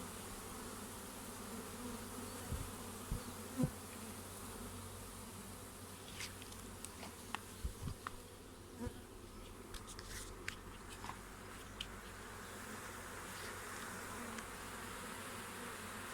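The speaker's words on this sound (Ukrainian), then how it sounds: "Такий клубок бджіл." A wild swarm of honeybees clustered on a hive's front wall in August hums as a steady, faint buzz, with occasional nearer bees zipping past.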